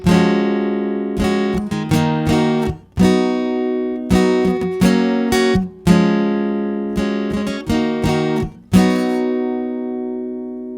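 An acoustic guitar strums the chorus chords of a song in a lively pattern with extra upstrokes, the ringing chords changing several times and ending on a sustained strum, played solo and close.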